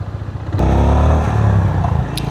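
A 2025 Honda CB350RS retro motorcycle's single engine drones steadily while being ridden, a close, loud, continuous rumble that swells briefly as the bike pulls ahead, with a light mechanical clatter on top.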